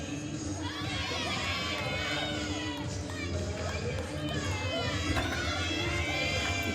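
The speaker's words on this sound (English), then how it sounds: "See your teammates on the side cheering her on, giving her some words of motivation." Teammates at a college gymnastics meet between Arkansas and Missouri cheer and shout encouragement at the balance beam, a loud continuous mix of high excited voices and crowd noise.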